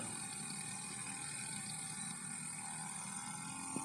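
Motorized grass cutter running continuously while cutting green grass, a steady whirring engine hum with a mechanical rattle, fairly faint and without talk.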